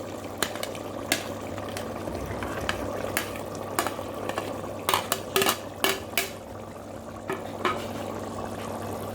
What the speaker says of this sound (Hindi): सीटी हटाकर हरी मिर्ची डाल रहे हैं।